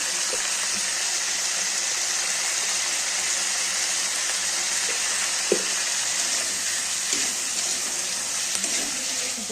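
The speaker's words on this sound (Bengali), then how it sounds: "নুন হলুদ দিয়ে ভেজে নেবো।" Potatoes and onions frying in oil with salt and turmeric, a steady hissing sizzle with occasional faint pops and small bumps, heard alone at moderate level.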